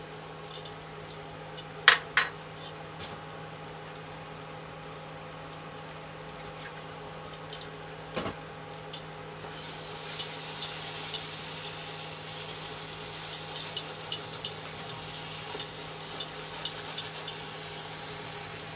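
Beaten yogurt goes into frying masala for an egg curry and gets stirred, giving scattered ladle clinks over a low sizzle that turns brighter and more crackly partway through, close up, with no voices.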